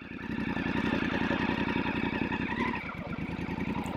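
A BMW F750GS motorcycle engine idles steadily close by, a dense throbbing pulse that holds level before dipping slightly near the end as the clutch is worked to keep it from stalling.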